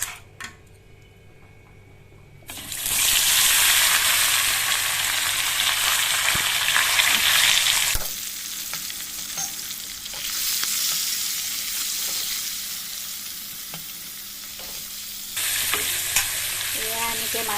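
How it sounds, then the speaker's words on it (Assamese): Fish frying in hot oil for a traditional Assamese dish, a loud, steady broadband sizzle that swells sharply after a quiet start, dips briefly, then surges again, with no talking. "এই গৰম তেলত এতিয়া আমি মাছ ভাজিম।"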